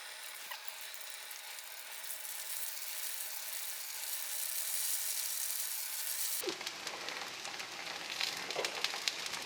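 Tofu and wild greens pan-frying in perilla oil give a steady, close sizzle and crackle, a broad hiss that grows busier and more spattery partway through, with no talking.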